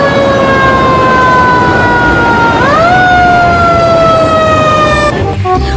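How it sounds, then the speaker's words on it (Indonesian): A toy fire truck's loud, continuous electronic siren wails steadily, its pitch stepping up partway through before cutting off near the end. "Di sebelahnya ada mobil pemadam kebakaran"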